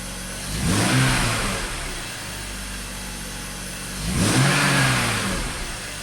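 A BMW X5 engine, recently troubled by misfires, revs up twice, with each rise in pitch easing back to a steady idle between. The two loud blips are close and clear, and no voices are heard.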